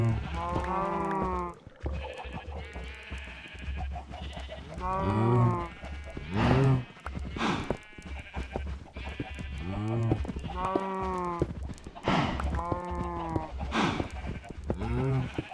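Cows in a Minecraft pen let out repeated moaning calls with bleat-like tones, loud and close, one after another across the whole stretch with little pause between them.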